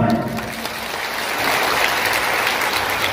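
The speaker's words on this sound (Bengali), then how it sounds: "জুড়ে হাততালি দেওয়া উচিত আমাদের অধ্যক্ষ মহোদয়ের জন্য" A crowd at a discussion meeting at Vivekananda Bhavan in Dharmanagar claps together in a dense, continuous wash of applause that stays even and fairly loud throughout.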